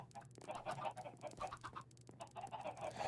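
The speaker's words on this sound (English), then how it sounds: "Look at how much room these chickens have." Chickens clucking in the Minecraft video game, a run of short, choppy calls repeating steadily throughout at moderate loudness with no talking.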